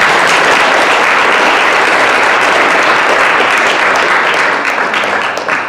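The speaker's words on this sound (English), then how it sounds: "Please give them a round of applause." Audience applause at a blockchain and fintech pitch event in Detroit: loud, dense, sustained clapping from a large crowd with no voices over it, carrying steadily to the end.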